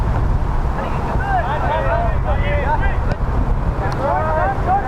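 Strong wind buffets the microphone at an outdoor youth soccer match, a loud continuous rumble with whistle-like tones over faint crowd calls and distant voices.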